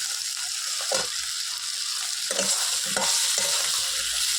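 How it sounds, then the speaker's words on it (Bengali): Potatoes fry with cumin and dried chili in a pan over a wood fire, an even sizzle close by broken by several scraping stirs, no talk. "এবার আমি আলুটা দিয়ে দিলাম"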